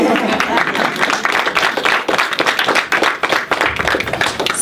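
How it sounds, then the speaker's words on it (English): Women at a fall conference clap together after a speaker shares her story. The clapping is loud, dense and continuous, close at hand, with voices mixed in underneath. "We need to clap, ladies."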